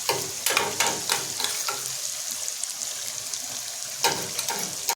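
Garlic paste frying with softened onions in a pan gives a steady, close hiss and sizzle, with a few scraping stirs from a spatula.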